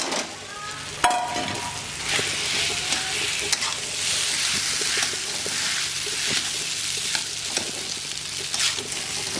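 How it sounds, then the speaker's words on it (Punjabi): Rice being stir-fried in a pan with roasted spices for fried rice, giving a steady loud sizzle with scraping and stirring strokes throughout, no voices. "ਆਪਣੇ ਮਸਾਲੇ ਵੀ ਭੁੱਜ ਗਏ ਹੋਏ ਨੇ ਹੁਣ ਵਿੱਚ ਆਪਣੇ ਚਾਵਲ ਪਾ ਦਾਂਗੇ"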